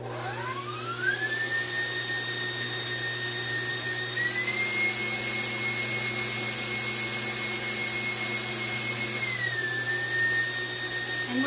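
An electric mixer set to high whips garbanzo bean liquid in a bowl, giving a steady, continuous motor whine that rises in pitch at the start and shifts slightly partway through, with no talking.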